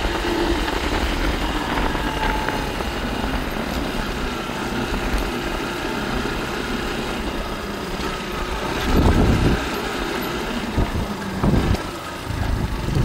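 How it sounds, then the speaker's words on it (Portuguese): A young girl rides a motorcycle on a rural outing near a reservoir. A steady, mid-level engine drone carries on throughout with a couple of brief louder surges, and nobody talks over it. "É toda menininha andando de moto"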